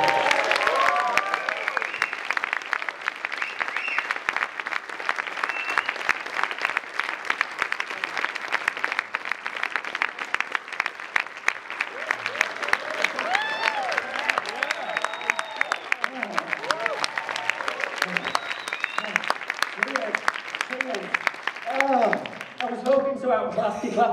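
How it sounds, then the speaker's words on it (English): Audience applause and clapping at a live show at Chocfest 2015, a sustained crackle of many hands throughout, with someone speaking over the final stretch. "Can we have the biggest clap of the evening for these wonderful performers and organizers?"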